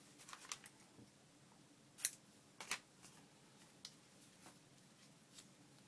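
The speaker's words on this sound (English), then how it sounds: "it still needs a little more trimming" Scissors snip paper for book page ephemera pockets and envelopes in a quiet room, a series of faint, sharp, irregular cuts with one louder snip near the middle.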